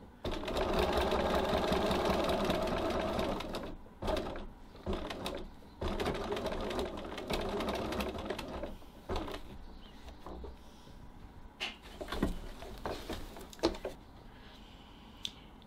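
A sewing machine stitches a rectangular box on a strap end: a loud, steady run of rapid needle strokes for about four seconds, then shorter bursts separated by pauses and small clicks as the fabric is turned.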